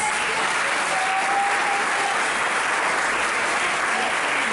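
A church congregation applauds in a dense, continuous wash of clapping that holds at an even, fairly loud level from start to finish.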